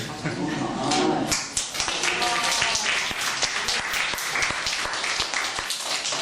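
Applause from a youth audience at a history lecture in a Hong Kong international school, mixed with talking voices; clapping is uneven and moderately loud, with a brief burst of chatter near the start.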